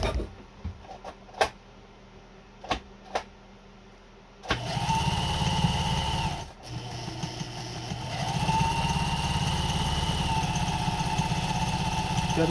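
A Pfaff 130 sewing machine starts up after a few light clicks and taps, then settles into a continuous close motor hum and steady stitching whir that carries on to the end.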